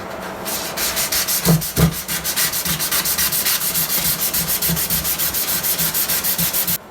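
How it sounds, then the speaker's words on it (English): A guitar's finish is rubbed with 400 grit sandpaper in quick, even back-and-forth strokes, a close, rhythmic scratchy hiss repeating steadily with a couple of heavier strokes early on. "Little 400 grit sanding now."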